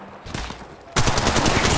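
Loud automatic gunfire in the mobile battle royale game Apex Legends Mobile: a short quieter burst, then a sudden, louder, sustained stream of rapid shots close by.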